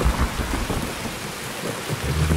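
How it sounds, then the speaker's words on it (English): Thunder rumbles low and broad through steady rain in the video game Escape from Tarkov, near Shoreline's Health Resort, with a deep, sustained roll and no voices. "That's just thunder right there."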